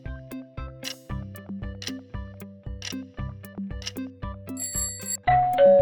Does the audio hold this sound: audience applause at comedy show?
no